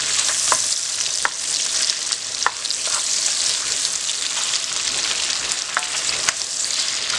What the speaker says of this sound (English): add the jalapenos and the onions so they can fry also with the bacon and the chorizo